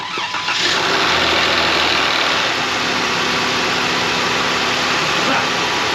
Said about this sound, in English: Anyway, starting the engine.